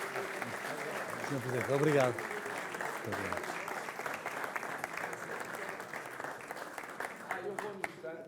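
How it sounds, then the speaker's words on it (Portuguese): An audience applauds at a Portuguese presentation event, a broad even clatter of clapping that runs throughout, while someone speaks briefly near the start over the noise. "E agora uma salva de palmas pelos dois."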